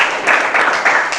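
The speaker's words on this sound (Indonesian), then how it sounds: "Kita kasih tepuk tangan lu kawan kita." Students in a classroom clap for a classmate, a brief burst of dense, close applause that swells and dips over about a second.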